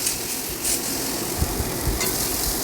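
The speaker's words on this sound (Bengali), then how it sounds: "এবার তাতে আমি পেঁয়াজ আদা রসুন বাটা আমি পেস্ট করে রেখেছিলাম সেগুলো আমি সব একসঙ্গে ভালো করে প্রায় মিনিট সাত পাঁচ সাতের ধরে আমি ওগুলোকে ভালোভাবে ভেজে নেব" Onion, ginger and garlic paste frying together in a pan for a pomfret kalia, giving a steady broadband sizzle with soft stirring scrapes throughout.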